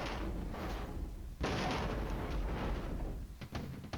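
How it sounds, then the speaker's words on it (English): Artillery bombardment in the wargame Flashpoint Campaigns: Red Storm, low heavy rumbling booms rolling continuously, with a strong thump near the middle and sharper hits toward the end. "and our artillery keeps pounding"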